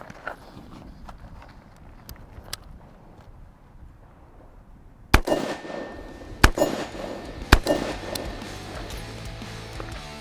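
Rifle shots fired from a modified prone position with a tightened sling ring out as three loud, sharp cracks in quick succession, each with a short ringing tail, following quieter ambient rustling.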